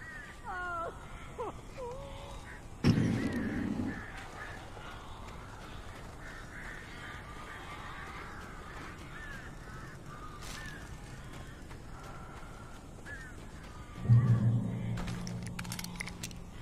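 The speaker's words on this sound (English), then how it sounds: "These birds are weird." Crows caw in the Alan Wake video game, with scattered harsh calls. Two loud bursts of low thumping and rumble break in, and the rest is a murky ambient background.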